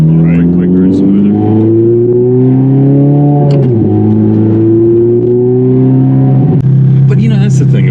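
A manual Ferrari Scuderia engine revving hard while driving, a loud, sustained, rising engine note that drops at gear changes around the middle and near the end, with brief voices over it.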